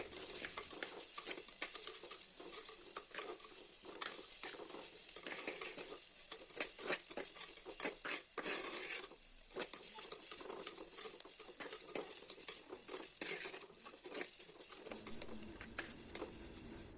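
A tablespoon of ginger garlic paste sautés in a hot pan, giving a steady, close sizzle broken by light scraping stirs throughout, with nobody speaking.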